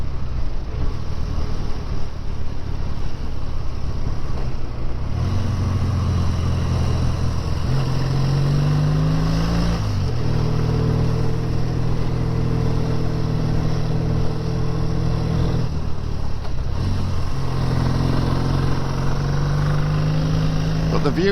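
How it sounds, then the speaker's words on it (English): Motorcycles, including adventure bikes, passing along a scenic road, heard as continuous engine drone with rising and falling pitch as they go by, moderately loud with wind noise. "There's a lot of bikes coming down now."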